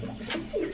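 A red pigeon in a cage at a pigeon market gives a short, low coo close up against a murmur of background noise.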